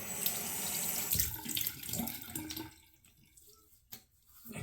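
Water running from a tap into a sink for a rinse after shaving, a steady close splashing flow that cuts off partway, leaving a few drips and quiet handling, no talking.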